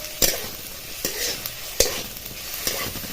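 Amti masala with dry coconut is stirred in a hot kadhai, four sharp spoon scrapes and taps spaced about a second apart over a low continuous sizzle, close, no talking.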